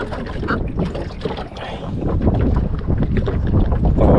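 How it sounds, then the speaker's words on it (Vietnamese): Strong wind roars across the microphone on a small fishing boat at sea in rough weather, a loud continuous gusting rush with water noise, steady throughout and swelling toward the end. "Gió dữ luôn á."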